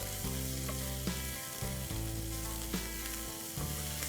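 Onions sweating in a pan for crab sukha masala give a steady close sizzle and fry hiss, broken by a few stirring scrapes, with no one talking.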